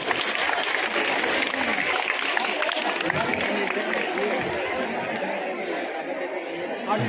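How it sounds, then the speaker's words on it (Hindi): Sustained applause from a crowd at a village Independence Day celebration in Chandana, honoring a woman teacher, steady and dense throughout with chatter mixed in. "मैडम के लिए जोरदार तालियां हो जानी चाहिए।"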